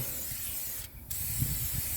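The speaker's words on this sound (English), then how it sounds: "I'm using a fluid film, so I'm going to spray a little bit of that all over on the hub" Fluid Film lubricant sprayed from an aerosol can onto a car's front wheel hub during a brake job on a 2020 Mitsubishi Eclipse Cross, a steady close hiss running through the whole moment with only a short break near the middle.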